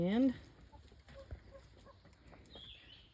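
Backyard chickens at a small cabin garden cluck in scattered, soft calls with a brief burst of wing flapping, under a soft murmur of background noise.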